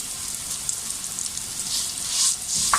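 Vermicelli roasting in ghee in a pan gives a steady close sizzle with soft stirring scrapes, briefly louder near the end, and no one speaks.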